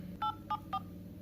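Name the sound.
telephone keypad dialing tones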